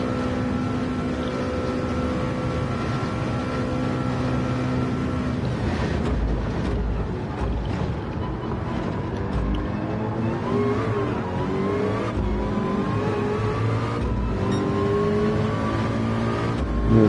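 A 2011 Mercedes SLS AMG GT3 race car drones at high speed in a virtual Le Mans race, its engine holding a steady loud tone, then shifting and rising in pitch as it accelerates along the Mulsanne Straight.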